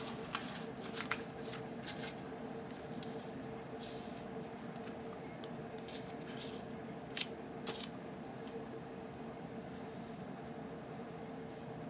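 Scissors snip through fabric for a photo mat in a quiet room, with faint, irregular cuts and rustles over a low steady background hum.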